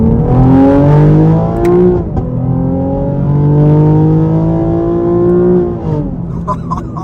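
A 2024 Chevy Camaro 1LT engine accelerating hard through the gears, a loud, close, rising whine with a brief dip at each shift before it settles back off.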